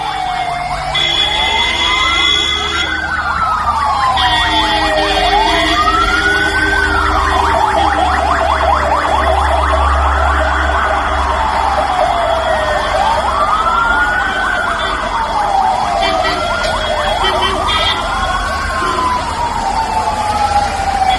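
An ambulance siren wails continuously in rising and falling sweeps, loud and close, repeating over and over without pause.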